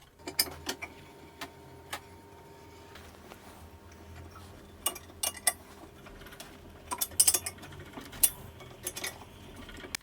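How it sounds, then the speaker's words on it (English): SBR20 linear rails, one meter long, being unwrapped on a work table: faint scattered rustles, light metallic clicks and taps, with a few sharper clusters near the end, quiet and close. "I'm now unwrapping the SBR20 rails."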